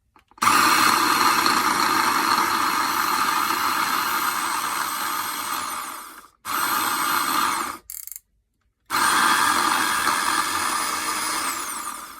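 A blender whirs loudly and steadily, mixing raw lasagna filling with garlic for a raw zucchini lasagna, stopping briefly twice before running on again at full power.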